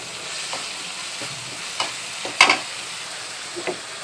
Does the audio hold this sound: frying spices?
yes